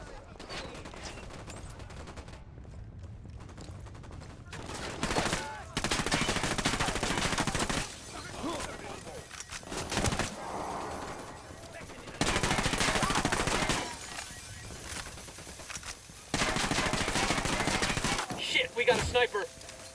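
Gunfire in Ghost Recon Wildlands: three loud, sustained bursts of automatic fire separated by quieter stretches of ambience, with scattered single shots toward the end.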